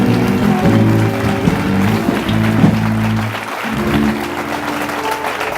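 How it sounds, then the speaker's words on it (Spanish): A church congregation applauds hard, a dense roar of clapping with sustained tones underneath and a brief dip before the clapping resumes. "dale fuerte ese aplauso al Rey"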